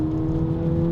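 Launch-control start in a 2024 VW Polo GTI with traction control off, wheels spinning in second gear at full power: a loud, steady engine drone with strong low harmonics held for a moment, close and continuous, no talk.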